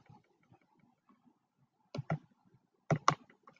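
Two pairs of sharp computer mouse clicks, close and fairly quiet, separated by a short pause over a near-silent background.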